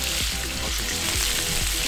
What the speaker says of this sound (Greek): Αυτό το τσιτσίρισμα